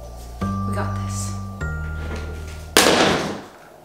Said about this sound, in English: That noise was me dropping my phone and the screen protector totally broke.